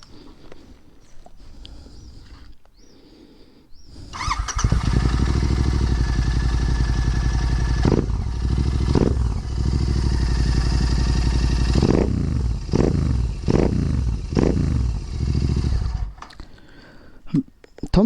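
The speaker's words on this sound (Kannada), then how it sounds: "ಇದಲ್ಲದೆ ನಿಮಗೆ ಎಕ್ಸಾಸ್ಟ್ ನೋಟ್ ಒಂದು ನೋಡ್ಕೋಬೋದು." Modified Royal Enfield Interceptor GT650 with a blacked-out exhaust starting up and idling loud and close, a deep steady thumping rumble broken by several sharp throttle blips before it settles down.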